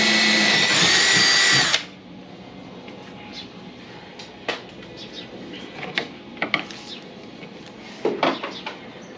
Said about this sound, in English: I'm gonna use my drill so I can get started.